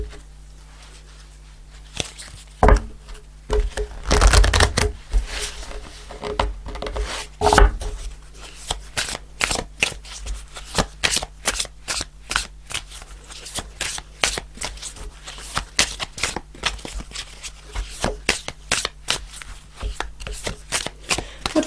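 Tarot cards being shuffled again and again in a quick riffling patter, with sharp bursts and brief pauses, close up and fairly loud, no voices.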